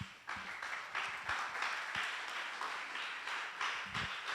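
A crowd claps together in steady, fairly faint applause that carries on throughout, sounding somewhat distant.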